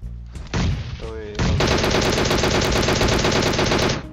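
A DP machine gun fires in the mobile shooter PUBG Mobile, opening with a brief shot or two and then a loud, sustained stream of rapid automatic fire for several seconds.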